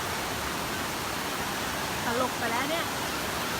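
Rushing water of a strong waterfall in Chaiyaphum province, Isan, Thailand, a steady broadband roar filling the background throughout, with people talking over it.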